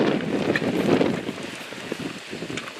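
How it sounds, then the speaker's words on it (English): Gusty wind buffets a microphone outdoors at a yoga day gathering, a loud rushing roar that swells and eases over a few seconds, with no voices heard. "Mother Nature has given us a little bit of wind today."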